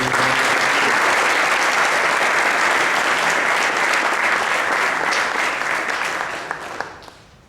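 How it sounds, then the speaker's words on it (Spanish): A large audience at an apologetics conference in Asunción applauds a speaker loudly and steadily for several seconds before the clapping thins out and fades near the end. "Pido un fuerte aplauso para el profesor."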